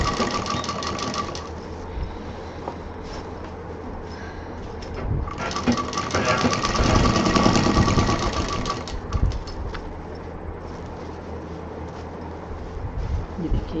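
A sewing machine stitches a wide strap seam on a double-pocket tote bag, its rapid mechanical whir running steadily throughout, swelling louder and faster in a sustained burst midway before easing back to a steady hum.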